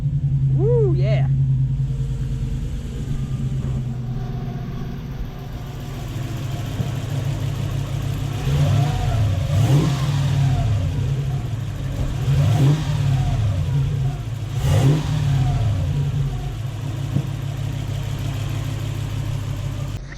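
Toyota 1UZ V8 in a hotrod running after an ECU repair, a deep steady idle rumble close by with repeated rising and falling revs blipped several times over twenty seconds, with people talking.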